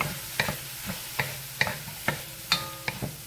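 Peas and carrots stir-fried for fried rice, a soft sizzle broken by a regular series of sharp clinks and scrapes from a spatula against the pan, about two per second, close by and without talk.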